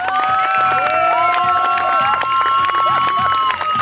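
Crowd at a dog show cheers and claps for the best-in-group dogs, including a Belgian Groenendael shepherd, a steady loud roar of voices and applause with sustained shouts throughout.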